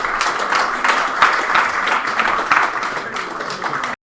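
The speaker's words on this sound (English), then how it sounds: "Big round of applause." A short round of applause from a tech meetup audience, dense steady clapping for about four seconds before cutting off abruptly.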